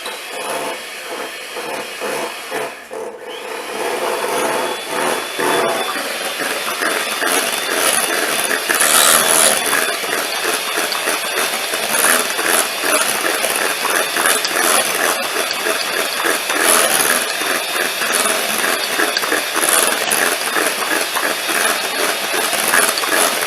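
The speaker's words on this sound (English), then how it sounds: "take our mixer again and mix this up nice until it's nice and smooth" An electric hand mixer whirs steadily through pumpkin roll batter in a bowl, a loud, continuous mechanical drone that runs for about twenty seconds with no pause and no voices.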